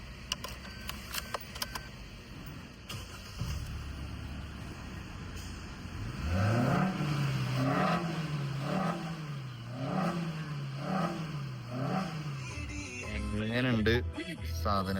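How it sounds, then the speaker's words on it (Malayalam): A car fitted with a performance air intake is revved close by: after a few quiet seconds of clicks and handling noise, the engine climbs into a string of repeated, rhythmic revs that rise and fall loudly until the end. "നൗ ഇൻടേക്കിന്റെ സൗണ്ട് ഞാൻ ഇപ്പോൾ കേൾപ്പിച്ചു തരാം."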